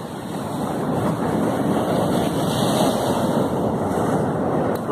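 Rough sea waves wash onto the shore on a wintry day, a continuous loud roar of surf mixed with heavy wind buffeting the microphone.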